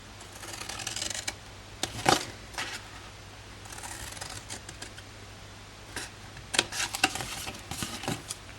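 Scissors snip paper up to the edges while a triangular gift box is made, several quiet crisp cuts and rustles spaced out in small clusters, close by with no talk.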